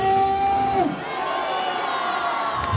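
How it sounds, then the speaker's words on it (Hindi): A Pentecostal church congregation in Lahore, Pakistan, cheers and applauds for Jesus. A voice rings out briefly at the start, then a broad wash of crowd cheering and clapping fills the room and holds steady to the end. "जोरदार ताली यीशु के लिए"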